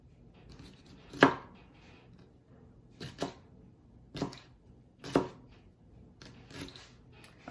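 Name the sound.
slicing food into thin slices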